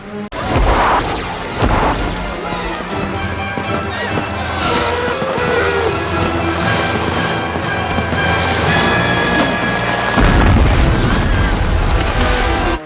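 Fireworks go off in a scene from the 1996 horror film Uncle Sam, loud booms and crackling bursts over a dense mix of music and effects, with voices faintly mixed in.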